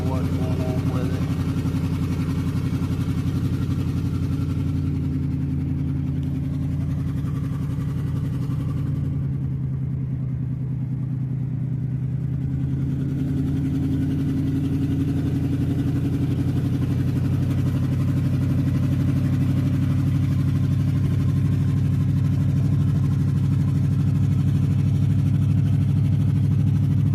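Vehicle engine idles roughly with a misfire after struggling up a hill, a loud steady low rumble that dips briefly midway, with no one talking over it.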